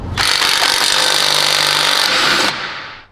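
A powered jack raises a BMW M4 Competition to check wheel spacer clearance, giving a loud, steady motorized whirr for about two seconds that shifts briefly and then winds down, close by with no talking.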